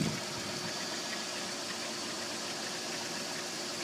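A car engine idling during a test run on HHO gas, a steady low rumble with a slight knocking texture, constant and close, no talk.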